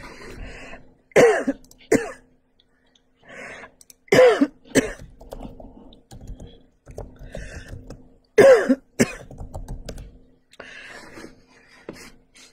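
A person coughs and clears their throat in three separate bouts, close and loud, with quieter rustling and pauses between them.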